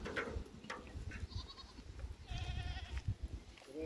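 Goats bleat at a farm in several short wavering calls, near and fairly clear, over a steady rustling background with no talk.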